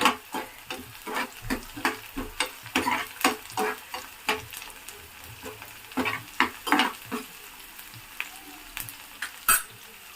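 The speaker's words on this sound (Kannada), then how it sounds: "ಈರುಳ್ಳಿ ಬೆಳ್ಳುಳ್ಳಿ ಹಾಕ್ತಾ ಇದ್ದೀನಿ ಚೆನ್ನಾಗಿ ಫ್ರೈ ಆಗಲಿ ಅಂತ" Onion and garlic frying in oil in a pan while a spoon stirs them, producing a soft continuous sizzle under a steady rhythm of close, repeated scrapes and taps, with no talking.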